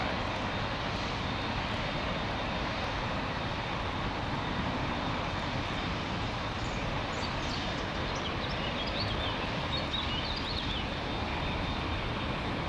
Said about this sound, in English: I can hear this Dreamliner to my right.